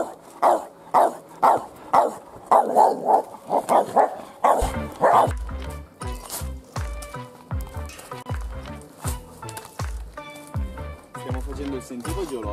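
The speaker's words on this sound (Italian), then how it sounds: "Come al solito i cani abbaiano contro di lui." Dogs bark repeatedly along a geological hiking trail at Borgio Verezzi, a rapid series of close, loud barks, later mixed with people talking and walking sounds.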